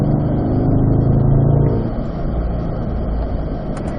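A C8 Corvette engine roars loudly under hard throttle accelerating out of a corner on a racetrack, then the pitch drops and settles into a steady drone.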